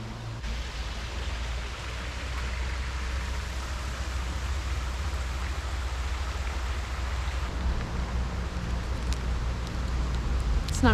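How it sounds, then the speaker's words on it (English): Light rain pattering steadily on surfaces, a soft continuous hiss that holds evenly throughout, with faint clicks near the end. "It's not really raining that much, just sprinkling."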